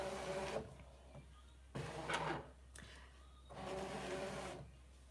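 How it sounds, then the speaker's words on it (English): A Brother ScanNCut cutting machine loading its mat, with three bursts of motorized whirring separated by short pauses. The rollers draw the mat in nearby with a mechanical buzz and a few clicks, no speech. "So I'm just going to load the mat into the machine."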